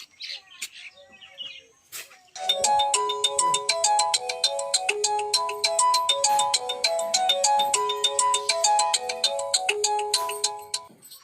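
A bright, melodic ringtone-style phone ringing tone for an outgoing call loops steadily after a short quiet start, loud and close, with faint chirpy sounds at the beginning.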